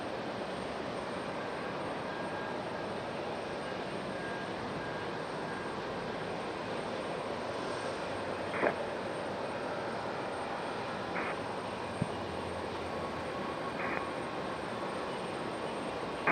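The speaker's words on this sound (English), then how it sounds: "Frontier getting ready to depart." A Frontier airliner departing at Raleigh-Durham airport on a stormy day gives off a faint, steady engine rumble in the distance, with a few brief clicks and tones over it and no talk.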